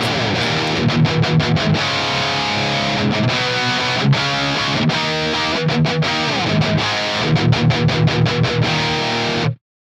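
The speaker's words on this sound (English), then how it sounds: "Let's take a look at this like slightly lower gain channel and see if we can get some metal tones out of it" Heavily distorted electric guitar in a metal tone through a Triple XXX amp plugin on a lower-gain channel, with a tube screamer in front, playing palm-muted chugs and sustained chords with sharp stops, loud and alone.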